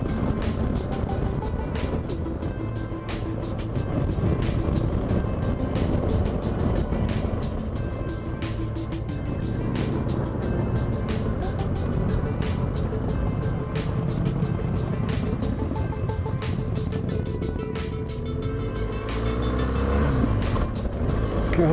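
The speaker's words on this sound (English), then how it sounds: "God, those Harleys are loud." Loud Harley-Davidson motorcycles roaring past on a road, a continuous heavy engine rumble that swells and fades as they pass, dominating the scene.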